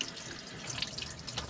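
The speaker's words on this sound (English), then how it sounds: "Water coming from the wells, cold." Cold well water runs steadily from a tap, a close, continuous splashing stream with faint drips, heard alone without talk.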